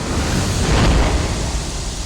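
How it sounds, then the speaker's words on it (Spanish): A deep, roaring explosion effect depicting the Big Bang, loud broadband rumble that swells briefly near the middle and sustains throughout, heavy in low end, with no voices. "Repentinamente la expansión comenzó con una explosión de energía llamada Big Bang,"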